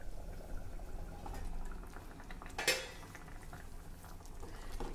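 Guava dish with sesame and coconut simmering under a lid in a pan, giving a low, steady bubbling with faint utensil clinks and one sharp metallic clatter about midway.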